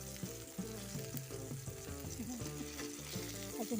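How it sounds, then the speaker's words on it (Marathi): Bangda mackerel fries in a pan for a crispy spicy masala fry, a continuous close sizzle and crackle of hot oil with no talk over it. "तर एक साईड आपली झालेली आहे ना आता ही दुसरी साईड आपल्याला भाजायची."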